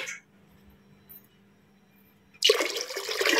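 Near silence gives way to a sudden, loud rush of water being poured into a pot for cooking rice for matar pulao, running strongly through the final second.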